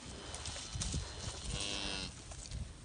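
A bull moos loudly and close by, one long drawn-out bellow with a rough, throaty tone and a harmonic stretch in the middle, amid farm ambience.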